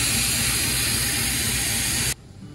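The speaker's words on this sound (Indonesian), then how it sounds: "Kereta yang bertugas CC 201" A loud, close hiss and rumble of a passing CC 201 diesel locomotive train that cuts off abruptly, leaving a quieter low background.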